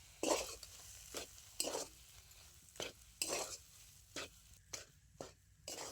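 A spoon stirring roasted spice mix and kasuri methi into a potato filling, heard as about nine quiet separate scrapes and clacks in an irregular rhythm, each with a light sizzle, nearby and otherwise near silent.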